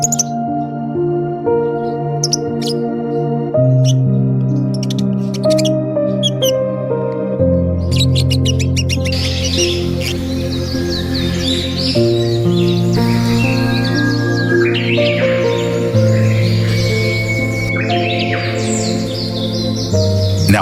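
Small lovebird parrots chirping and tweeting in rapid bursts of high calls over steady background music, lively and fairly close.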